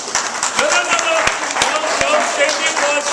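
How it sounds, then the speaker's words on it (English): An audience of military families and children claps at a magic show, a scattered, moderate burst of hand claps blending into crowd murmur, with a voice talking over it. "No, save the applause to the end."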